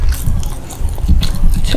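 Crispy, very spicy fried pork tail being bitten and chewed up close, with loud crunchy bites and steady chewing for a couple of seconds.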